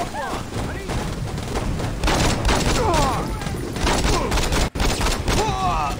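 Rapid gunfire from the Saints Row video game, with dense bursts of shots and booming impacts crackling loudly throughout, while voices shout over the shooting.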